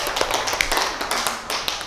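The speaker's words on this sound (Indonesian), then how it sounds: "Tepuk tangan untuk Novi." A classroom group claps briefly for a student, a quick patter of hand claps at moderate loudness with no talk over it.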